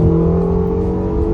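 A Ferrari California T's engine pulls hard under acceleration, a loud, close, steady droning growl with strong tonal hum, sustained throughout without speech.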